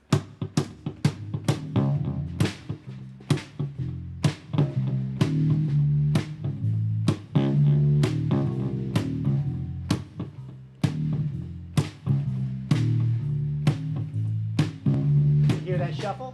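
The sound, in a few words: song with a shuffle groove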